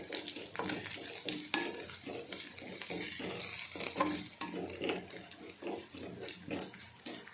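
Spices tempering in hot oil in a pan sizzle and crackle steadily at close range, with repeated sharp pops and spatters throughout and no talking.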